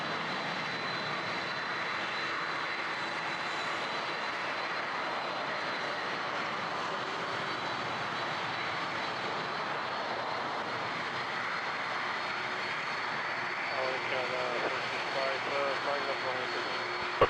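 A Porter Airlines plane at Toronto Pearson airport makes a steady engine roar with a broad whine from a distance, continuous throughout, while a person talks faintly and radio chatter is heard.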